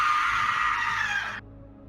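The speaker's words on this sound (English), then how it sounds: "You hear the scream of a woman not far from where you are" A woman's high, sustained scream plays as a tabletop role-play effect, loud and close, holding for over a second before cutting off abruptly into near silence.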